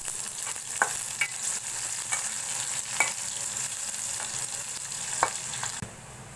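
Garlic and onion frying in a pan of oil after dried chillies were blackened, for a Bengali mixed-vegetable dal dish; a steady soft sizzle with occasional stirring clinks and scrapes.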